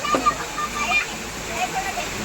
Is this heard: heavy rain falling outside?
yes